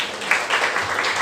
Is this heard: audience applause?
yes